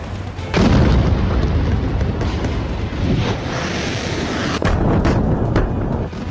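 Heavy booming blasts from Israeli strikes on Hezbollah in Lebanon, a loud rolling roar with several sharp impacts layered over a dense rumbling background.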